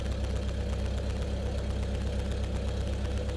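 A Lancair aircraft piston engine idles steadily at about 1000 RPM, giving a continuous low rumbling drone with an even mechanical texture that holds at a constant level throughout, with no voices.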